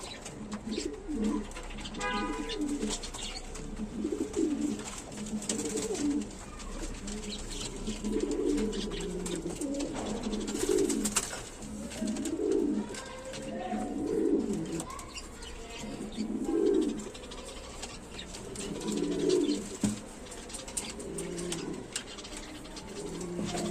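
Grizzle running pigeons cooing in a pen, a steady series of soft, low rolling coos repeating every second or two, close and moderate in level against light background noise.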